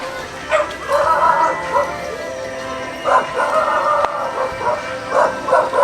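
A dog barks repeatedly in short bursts from a moderate distance, with yips between barks and a person calling out nearby.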